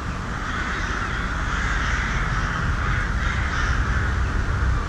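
Several crows caw repeatedly and loudly close by, with their harsh calls overlapping in a steady, dense chorus and no other sounds behind them.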